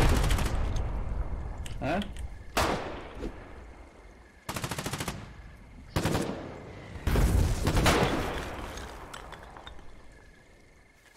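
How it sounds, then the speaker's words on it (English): Bursts of close, loud automatic gunfire from soldiers shooting come in several separate volleys with brief pauses between them, with rattling machine-gun fire and echoing shots, and a voice briefly speaks. "Why the fuck are they shooting at us?"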